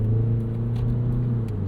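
Engine of a 2008 Mitsubishi Eclipse Spyder convertible hums steadily from inside the car during manual shifting in city driving, a close, even rumble with no clear revving change.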